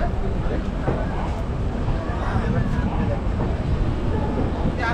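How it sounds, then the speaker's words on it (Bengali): Hamsafar Express pulling out of Malda Town station, a steady loud rumble of the moving train heard from on board, dense and continuous throughout. "একদম মালদা স্টেশন থেকে আমাদের ট্রেন ছেড়ে দিল।"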